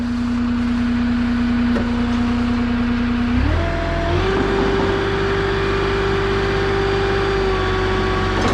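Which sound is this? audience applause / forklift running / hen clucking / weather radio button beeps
forklift running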